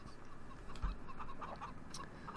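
Chickens cluck softly in a pen in the Farming Simulator 15 game, a few faint, short clucks scattered over low background noise.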